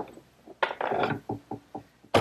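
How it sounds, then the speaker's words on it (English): Clamps being loosened and pulled off a glued wooden top blank in a woodworking shop, giving a burst of ratcheting and knocking followed by several short separate clacks, close and fairly loud with no talk. "I can unclamp it."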